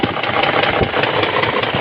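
BMW X5 E53 with an M62B44 V8 engine running with a piston knock, a steady mechanical engine drone carrying faint repeated knocks in a regular rhythm, heard close up with no talking.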